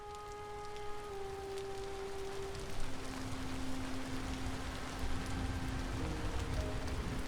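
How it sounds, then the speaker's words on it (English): Rain falling steadily in a game world, a soft, even patter of drops across the whole stretch with faint tonal hums in the background. "Rain."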